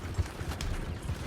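Horses galloping in Red Dead Redemption 2, with quick thudding hoofbeats at a steady clip-clop rhythm, moderately quiet under game ambience.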